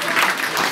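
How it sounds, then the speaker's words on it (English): Guests applaud at a wedding reception at Auberge Des Gallants in Ste. Marthe, Quebec: a short, dense burst of many hands clapping at steady loudness, with no pause. "Big round of applause."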